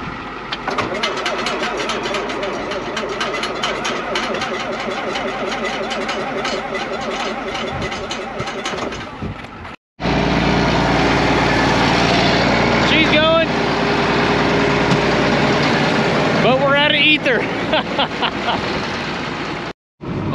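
A farm tractor engine starts and settles into a loud idle beside a big hay tub grinder. The close, steady mechanical rumble runs continuously and is cut off briefly twice.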